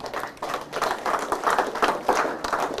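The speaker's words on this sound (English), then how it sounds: "please can we give them a round of applause?" Audience applause at the opening of the Fiji Eastern Division Youth Conference 2017, a sustained burst of many hands clapping at moderate loudness, steady and unbroken with no talk over it.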